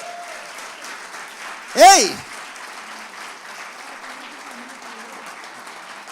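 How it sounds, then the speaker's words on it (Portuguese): A church congregation at a Sunday celebration service breaks into a steady, dense wash of clapping that fills the whole moment, with one sharp shout rising out of it. "Eu queria que vocês aplaudissem pela vida do"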